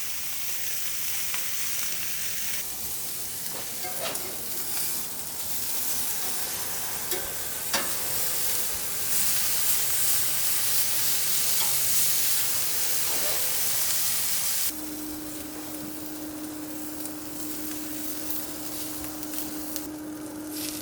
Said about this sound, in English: My first step is to cook my pancetta. So I'm going to put that over the grill.